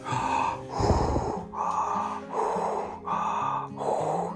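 Rhythmic, breathy huffing repeated about every half second, a voice imitating the heavy breathing of a hiding animal, close and steady with no words.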